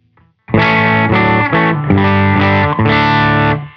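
Several sustained bass notes played through a Catalinbread Epoch Bias preamp pedal ring out in sequence, full and slightly gritty with added effects, close and loud with no talking.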